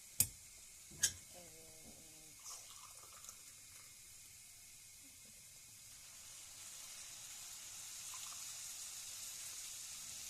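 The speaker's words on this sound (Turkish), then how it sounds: "Şimdi sıcak suyumu ilave edeceğim." Hot water, two glasses' worth, poured into bulgur for kısır: a couple of sharp clicks open, then a soft, steady pouring hiss gradually grows louder toward the end, with no talking.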